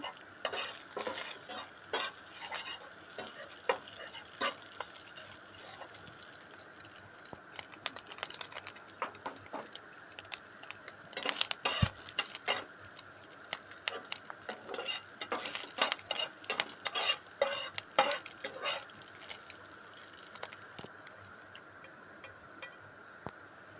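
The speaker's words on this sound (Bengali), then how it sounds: "এরপর আলু, পেঁয়াজ আর লঙ্কা কুচি ভেজে নিচ্ছি।" Potato, onion and chopped chilli fry in a pan, with irregular clicking and tapping of a utensil stirring against it over a faint sizzle, the taps coming in uneven bursts with no talking.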